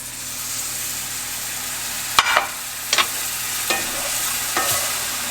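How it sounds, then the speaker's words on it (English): A spoon stirs milk into a thick sauce in a pan over lowered heat, with a few distinct scraping strokes spaced a second or so apart over a low, steady hiss. "Give that a good stir."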